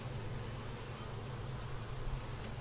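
Honeybees swarm around an opened brood frame from a hive, their agitated buzzing a faint, steady drone close by.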